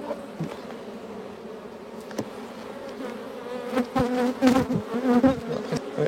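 Agitated honeybees buzz around a hive in the evening, a dense close drone that swells louder toward the end as individual bees pass near.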